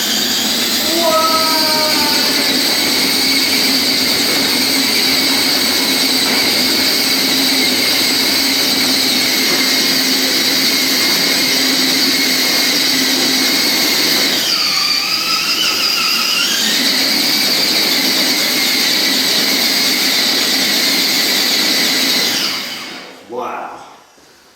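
A 1/4 scale 4x4 Killer Krawler 2 RC crawler drives with a loud, steady electric motor whine and whirring drivetrain, rising in pitch midway as it speeds up, then cutting out at the end.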